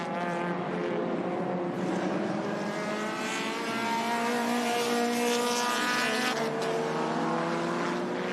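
Improved Production race cars battle in a pack at Hidden Valley in 2018, their engines droning steadily together with overlapping, shifting whines that stay loud and continuous throughout.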